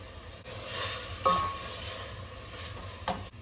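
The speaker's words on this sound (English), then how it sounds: "I've got to start stirring it pretty fast so that it doesn't stick to the bottom" Chili stirred in a pot over heat, a steady low sizzle with scraping stir strokes near the start and end, close and moderately loud, no talking.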